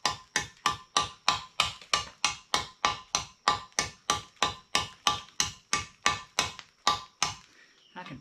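Hammer striking concrete blocks during block work on a damaged shop, a steady run of about twenty sharp ringing blows in even rhythm, close and loud, stopping near the end.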